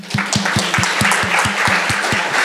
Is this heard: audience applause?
yes